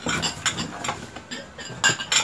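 Large, very heavy plates are handled and set against one another, giving a quick run of hard clinks and knocks, close by and uneven in rhythm, with no voices.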